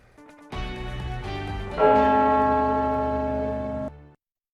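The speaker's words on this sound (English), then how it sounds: "the bells are ringing at Westminster Abbey" Church bells ring out at Westminster Abbey, a rich peal of overlapping strikes swelling louder about midway and sustaining with long ringing tones before stopping abruptly.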